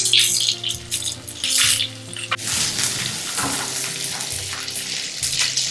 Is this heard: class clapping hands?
no